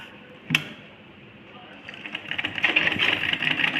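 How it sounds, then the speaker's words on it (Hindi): A sewing machine stitches the top seam of a ladies' pajama pocket, a fast mechanical rattle building in after a brief click, with a voice speaking at first. "अब हम इसके ऊपर का सिलाई लगाएंगे।"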